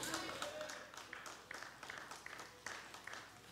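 A church congregation applauds during a Sermon on the Mount sermon, a faint, steady wash of clapping with scattered sharper claps.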